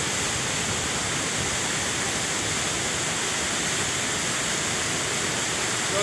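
Strong floodwater rushes across rain-soaked fields in a loud, unbroken roar that stays even from start to finish.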